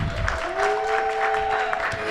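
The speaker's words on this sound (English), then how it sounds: "So y'all please give a round of applause for JR Outlaw" Audience applause for JR Outlaw at a live storytelling show, a short burst of clapping and crowd noise with a sustained tone and some voices mixed in.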